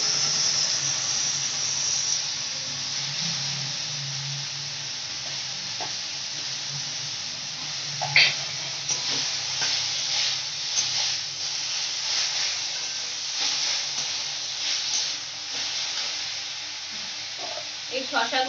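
Pieces of elephant apple (chalta) sizzle steadily in a hot pan for a chutney, a continuous hiss with occasional crackles and brief stirring clatter, close and fairly loud.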